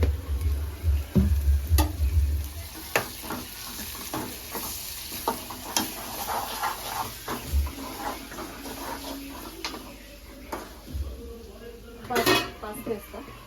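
Onions frying in a pan with ginger paste and a little salt added for egg puffs filling, steady soft sizzling with clinks and scrapes of a spoon stirring against the pan, while someone talks over it.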